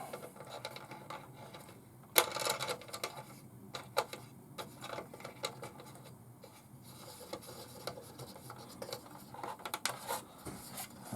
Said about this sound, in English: I'll spin the wheel on